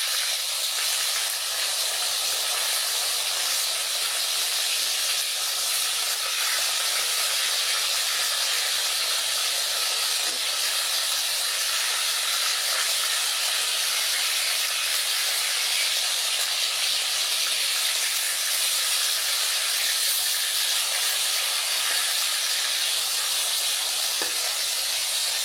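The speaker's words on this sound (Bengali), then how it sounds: "তো এই যে মাছ ভাজা হচ্ছে।" Fish fries in hot oil, producing a constant, dense hiss and crackle that holds at an even level throughout, with no talking.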